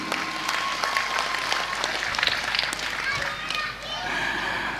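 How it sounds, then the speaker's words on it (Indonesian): Audience applause at a lively Javanese religious gathering, bursts of clapping mixed with crowd noise and voices, fairly close and uneven, fading slightly toward the end. "Tepuk tangan untuk Akim."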